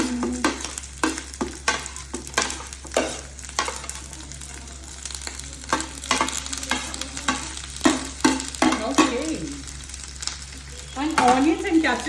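Onions and capsicum sizzling in a pan with roasted cumin, a steady frying hiss broken by repeated scraping stirs of a spoon, close and fairly loud.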